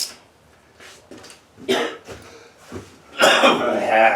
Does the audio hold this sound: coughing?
yes